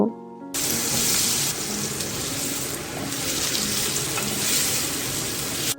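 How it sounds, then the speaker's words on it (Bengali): Pumpkin pieces fry in hot oil with nigella seeds and green chilli, a steady close sizzle and crackle running almost without pause after a brief quieter start. "তো এবার কুমড়োগুলোকে ভালো মতো করে একটু ভেজে নেব"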